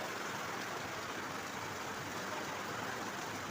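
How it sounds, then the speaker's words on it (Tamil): Heavy rain driven by wind pours down in a dense, continuous hiss, steady and enveloping throughout with no distinct drops or voices. "மழை சவுண்டு செம்மையாக இருக்கு."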